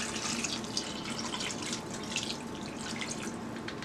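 Water pours steadily into a cooking pot of steamed meat for Liberian split peas and gravy, a continuous close splashing and gurgling stream with no break.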